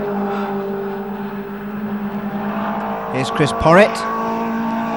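Caterham 7 race cars in the 750 MC Goldarts Challenge sweep past on a circuit, a steady engine drone building to a brief louder pass with rising pitch, heard under a commentator's voice.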